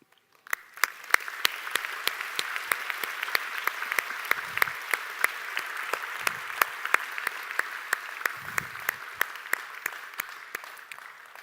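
Sustained applause with scattered cheers fills a university graduation ceremony hall, a steady dense patter of many hands clapping at moderate volume from start to finish.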